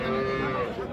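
A Friesian dairy cow with her calf at a rural cattle market gives one loud, close, sustained moo.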